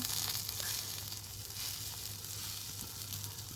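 Egg and eggplant fry in a pan as they are flipped and stirred, giving a steady close sizzle with soft crackle throughout and no talk.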